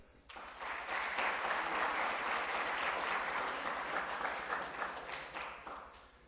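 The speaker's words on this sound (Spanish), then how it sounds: "También brindemos un fuerte aplauso al maestro José Luis Macías Ponce, coordinador del Colegio de Ingeniería Industrial." An audience at a university safety-week event gives a hearty round of applause for an industrial engineering coordinator, with full, continuous clapping swelling quickly and holding for several seconds before fading.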